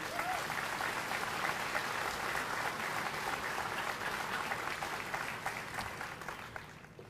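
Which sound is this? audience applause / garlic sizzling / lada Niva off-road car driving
audience applause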